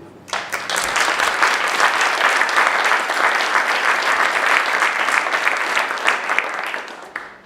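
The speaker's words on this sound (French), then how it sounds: "de les remercier et de les applaudir" An audience applauds the organisers at the opening of a spring 2018 evening event, dense clapping swelling quickly and staying loud and steady for several seconds before tapering off at the end.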